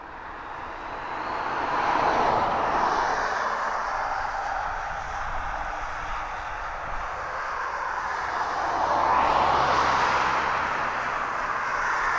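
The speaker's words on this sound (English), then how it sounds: "coming in right now. Should be Boeing 767 cargo jet." A Boeing 767 cargo jet lands at East Midlands Airport. Its broad engine roar comes from a distance, swells, eases off, and then builds again as the aircraft passes.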